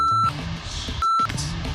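A timer start signal: two short, clean electronic beeps about a second apart, loud and close, with faint background noise between them.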